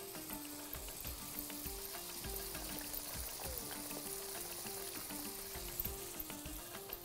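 Chicken frying in a pan as broth is poured in, a steady faint sizzle and bubbling with light crackles and occasional stirring clinks, no talking.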